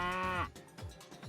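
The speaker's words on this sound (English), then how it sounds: "Cow." A single close, clear cow moo in the video game Jinx, a drawn-out tonal low followed by a few soft game noises.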